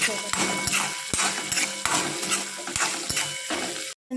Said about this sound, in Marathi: हिरव्या मिरच्या पण टाकून टाकतो हे चांगले फ्राय होऊन जाईल